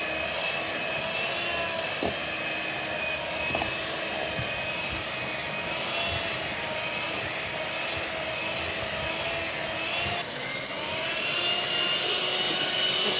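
An electric mixer runs at high speed whipping cream for homemade ice cream, a loud, steady, close whirring drone that continues throughout with a slight shift in pitch midway.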